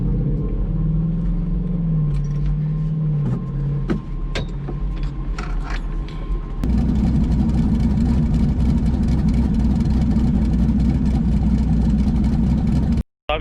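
A car engine idles at lowered RPM with a steady low rumble and some whirring and faint clicks, then shifts abruptly to a louder, rougher drone that runs until a sudden cutoff.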